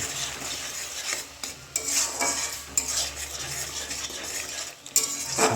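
A utensil stirs and scrapes spices with salt in a hot pan of oil, giving repeated scraping strokes over a soft sizzle, close and without any talk.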